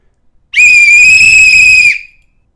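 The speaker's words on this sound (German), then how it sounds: "Das war ja nun wirklich die lauteste Trillerpfeife, die sie jemals gehört hatten." A trill whistle is blown as hard as possible in a single piercing, steady blast of about one and a half seconds, very loud and close, with silence before and after.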